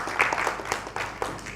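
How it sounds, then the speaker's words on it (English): Short burst of audience clapping during an engineering lecture on vibrations, scattered claps at moderate level, somewhat thin and irregular, with no clear voices. "give him a round of applause"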